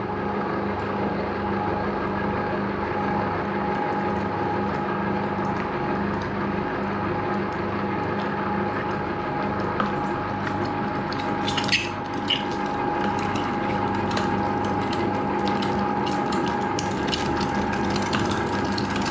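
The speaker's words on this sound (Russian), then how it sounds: "Как слышите, перемалываются косточки" Continuous mechanical grinding from a meat grinder crushing carp and pike fillets with bones, a ratcheting, crunching texture, steady and close, with occasional sharper cracks near the middle.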